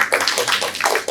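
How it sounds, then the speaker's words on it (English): A business meetup audience gives a round of applause, a brisk patter of a modest number of hands clapping, fairly close and uneven, lasting about a second. "so a round of applause"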